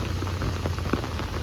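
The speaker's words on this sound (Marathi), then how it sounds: "कडकवाला मुंबईचा पहिला पाऊस" Heavy first monsoon rain falls in Mumbai as a dense, steady hiss and patter of drops on surfaces, continuous and fairly loud throughout.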